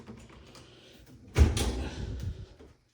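Bathroom vanity with two doors and drawers being tried: a single solid knock or thud as a cabinet door or drawer is pulled, followed by a brief rattle, close and moderately loud with no talk.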